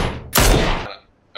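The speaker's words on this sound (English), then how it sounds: "I got shot" A loud close burst of gunfire in the battle royale game PUBG, a dense blast lasting about half a second before fading, then a short sharp sound at the end.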